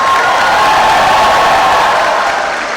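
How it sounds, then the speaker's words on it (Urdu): Loud, dense audience applause fills a convocation hall, steady clapping with some cheering that holds throughout and eases slightly at the end. "اپنے اساتذہ، پروفیسرز کے لیے بھی زوردار تالیاں"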